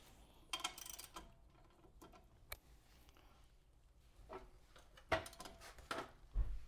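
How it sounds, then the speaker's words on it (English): A wrench works the lower shock absorber bolt on the driver's side front of a Jeep Wrangler JKU, producing sparse quiet ratcheting clicks and metallic ticks, with a few sharper knocks toward the end. "Removing this bolt down here."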